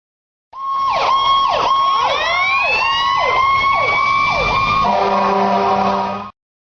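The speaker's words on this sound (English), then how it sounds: "Fire engine." A fire engine siren wails loud and close, sweeping up and down in repeated cycles before switching to a steady, layered horn-like tone, with no talking.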